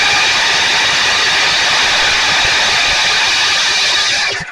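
Generac 7000 EXL generator engine fires and tries to run with a loud, continuous roaring drone that holds steady before cutting off abruptly at the end, heard up close.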